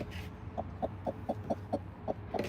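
A broody hen clucks in a low, steady series of about ten soft, evenly spaced clucks, close by and fairly quiet, with no talk.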